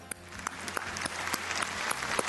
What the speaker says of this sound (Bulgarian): Аплодисменти за трикратния шампион Последния печели, Йордан Костов!